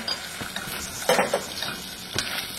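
Ginger and aromatics sizzle and fry in hot oil while being stirred, with steady crackling and a few louder scrapes and clinks of a utensil against the pan, close up and without talk.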